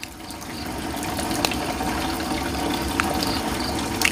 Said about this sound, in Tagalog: Maglagay ng tubig.